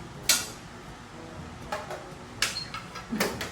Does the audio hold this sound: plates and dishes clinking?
yes